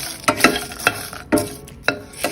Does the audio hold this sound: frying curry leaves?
yes